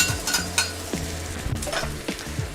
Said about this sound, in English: I'm gonna start off with a quick wok fry here